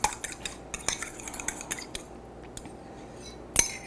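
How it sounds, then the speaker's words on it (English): A single egg beaten in a bowl for a Southern-style batter, a quick irregular clatter of utensil against the dish, close and fairly quiet with a louder clink near the end. "I've got 1 egg, and I'm gonna beat it up nicely because this is going in with the wet ingredients"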